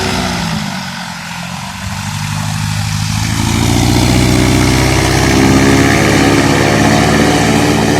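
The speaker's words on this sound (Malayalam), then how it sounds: "ഒരു ബൈക്കിൻ്റെ എൻജിൻ വെച്ചാണ് ഈ പെർഫോമൻസ് നടത്തുന്നത്." Homemade light airplane powered by a motorcycle engine runs near a boat, its buzzing engine note rising in pitch and loudness over several seconds as it revs up, loud and continuous throughout.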